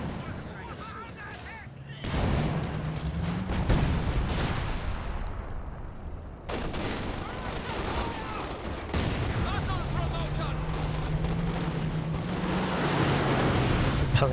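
Heavy artillery fire rolls through a Company of Heroes 2 battle in repeated booming salvos and dense rumbling blasts, while someone talks over the barrage for much of the clip.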